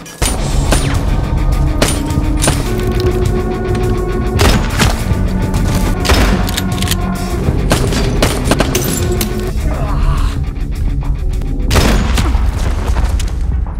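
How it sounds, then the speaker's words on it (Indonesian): A rapid barrage of loud gunshots and booming blasts fires continuously over a dramatic music score, with no pauses. "Max berhasil melepaskan tembakan yang tepat mengenai Rusty."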